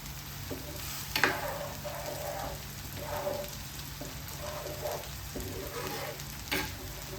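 Fish in a simmering spiced curry paste is stirred in a pan, soft bubbling sizzle broken by a few scraping strokes of the spoon, close and fairly quiet, with no talking.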